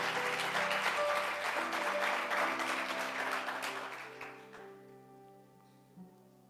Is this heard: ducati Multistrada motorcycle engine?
no